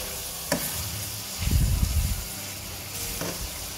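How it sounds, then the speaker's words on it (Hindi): Ground spices including garam masala and cumin powder frying and being stirred in a pan for a chicken and capsicum curry, a soft sizzle with a short burst of scraping and stirring in the middle. "सारे मसाले ऐड कर देंगे और इनको भी अच्छी तरह से भून लेंगे"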